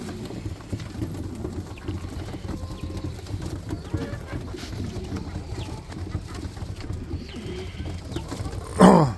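Roller pigeons in a kit, with soft low cooing and shuffling movement throughout at close range, ending in a brief louder burst of bird calls.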